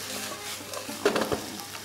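Prawns cook in a hot pan with a steady close sizzle, interrupted by a brief burst of stirring or shifting near the middle, with no one speaking.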